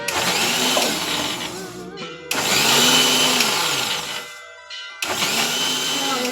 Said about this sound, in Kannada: ಈ ಮಿಕ್ಸಿ ರುಬ್ಕೊಳ್ಳೋಣ.